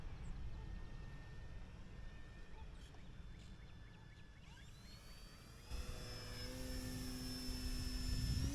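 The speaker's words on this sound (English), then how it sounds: "Really easy plane to fly." A Turbo Timber RC model airplane flies overhead with a thin, whining electric motor drone that shifts in pitch and swells louder near the end, set against steady outdoor wind noise.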